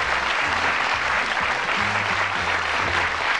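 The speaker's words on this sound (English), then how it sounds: "warm round of applause" Warm applause from a studio audience on a television show about darts, steady and full throughout with some low rumble underneath.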